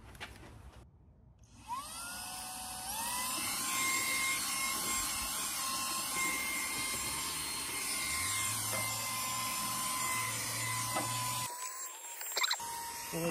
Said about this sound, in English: So I'm gonna take the vacuum, that's like a pistol grip, kind of like a drill, and this little attachment